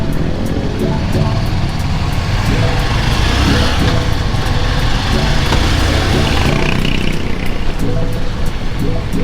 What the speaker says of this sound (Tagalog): Busy ang traffic ngayon.